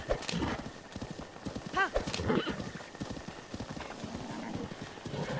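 Horse hooves clip-clop and a horse neighs in Zelda: Breath of the Wild during horseback battle, with a whinny cutting through steady galloping and game effects.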